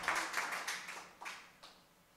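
A church congregation claps in applause, a dense burst of handclaps that starts strong and gradually fades over a couple of seconds, moderately distant and without talking.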